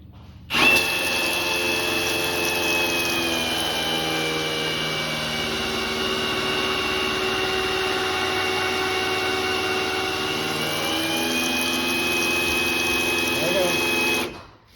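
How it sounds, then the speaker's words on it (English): A high-volume oil pump, unmodified, runs on a standard sump during a bench test for a 1971 Ford Falcon XY GT engine, giving a loud, steady mechanical whine with harmonic overtones that holds for about fourteen seconds alone. "Okay, comparative test. Another high volume pump unmodified on a standard sump."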